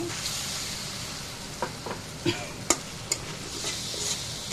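Steady sizzling from a frying pan of small mola fish with salt, with occasional scraping clicks of a utensil stirring, close and moderately loud, no voices.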